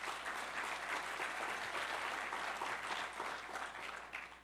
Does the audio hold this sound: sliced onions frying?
no